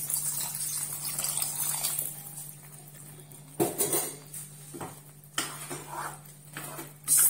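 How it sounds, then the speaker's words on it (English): Oha soup with meat, stock and water being stirred in a pot: a low steady hum under faint scraping, broken by a few sharp clinks and knocks of a utensil against the pot. "Stir to combine."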